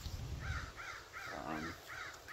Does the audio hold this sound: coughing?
no